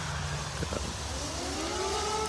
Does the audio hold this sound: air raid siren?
yes